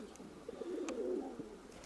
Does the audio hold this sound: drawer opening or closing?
no